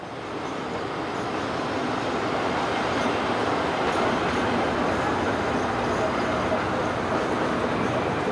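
A BB diesel locomotive hauls a freight train, a steady loud rumble of rolling wagons and engine noise that holds evenly throughout, close by with no break.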